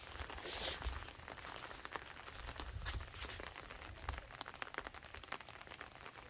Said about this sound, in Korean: 아, 빗소리도 좋고.